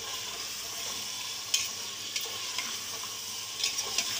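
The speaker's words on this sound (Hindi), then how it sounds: "फुल आंच पे हम इसको इसी तरह 1 मिनट तक चलाएंगे" Mutton korma stirred in a pan over a full flame, a steady sizzle with a few sharp scrapes and taps of the spoon against the pan, close and without talk.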